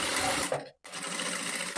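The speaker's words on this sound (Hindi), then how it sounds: "अब इसमें मैं सिलाई लगाऊंगी।" A sewing machine runs steadily while stitching the neckline of a princess-cut belted blouse, buzzing fast and continuous, breaking off for a split second before carrying on.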